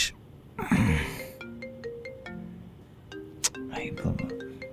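A phone ringtone plays in short repeating melodic phrases, fairly clear and near, with breathy sounds and a gasp in between.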